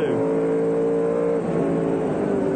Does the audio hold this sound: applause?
no